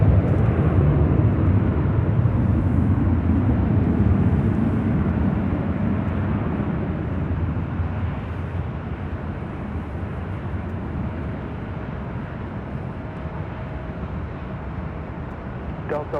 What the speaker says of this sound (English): Next arrival here on the north side, Alaska Airlines Flight 1092 coming in from Seattle